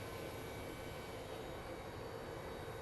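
A British Airways airliner passes over Phoenix Sky Harbor airport as a faint, steady, distant engine roar with no distinct onset, under a broad wash of noise.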